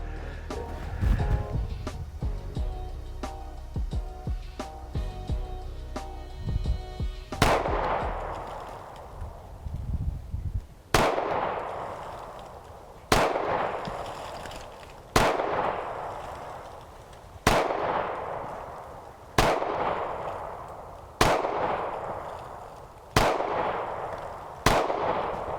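Sig Sauer P226 pistol: about eight sharp shots spaced a couple of seconds apart, each with a ringing outdoor decay, following a few quieter clicks and handling noises.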